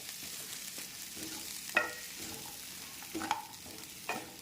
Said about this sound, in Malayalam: നമുക്ക് ബട്ടറിലൊന്ന് ഇളക്കി കൊടുക്കാം.